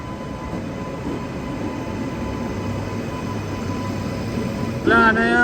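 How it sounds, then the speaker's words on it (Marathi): A train rumbles steadily into a station with a continuous low roar, ending in a sharp metallic squeal of brakes; voices faintly in the background. "मम्मा ट्रेन आली चलो फायनली चला चला"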